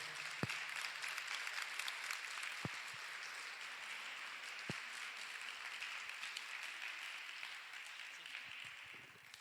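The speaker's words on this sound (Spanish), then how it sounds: "Vamos a darle un aplauso fuerte a Jesús." A church gathering's congregation gives a long, strong round of applause, a steady crowd-wide wash of clapping lasting nearly ten seconds with a few sharp knocks and thumps popping out along the way.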